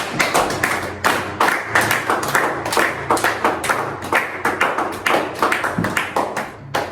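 Church congregation clapping together in a steady rhythmic beat, loud and close, repeated claps about twice a second carrying on without talk.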